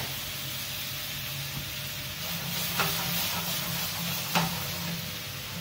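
White wine hits a hot pan for a shellfish risotto, giving a steady broad sizzle and hiss with a couple of brief sharper spits, close by, with no voices.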